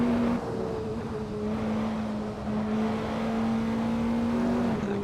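Praga R1 race car engine in Assetto Corsa, a steady high-pitched drone holding under power and easing slightly near the end, continuous and moderately loud with no talking.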